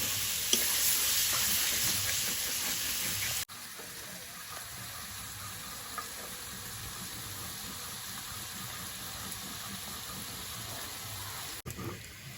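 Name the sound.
chicken frying and being stirred in spice masala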